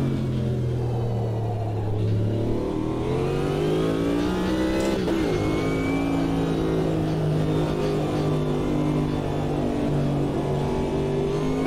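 Chevrolet Corvette GTP race car engine at full throttle in the Automobilista 2 racing game, a loud, sustained droning roar that rises and falls through gear changes with a brief dip midway, then climbs steadily again.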